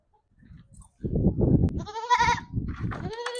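Small-eared Barbari goats bleating close by, several loud wavering calls in quick succession after some low rustling and shuffling.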